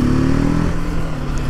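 TVS RTR 310 naked motorcycle engine pulling in third gear, a steady close drone with the pitch shifting partway through a brief burst, no talking.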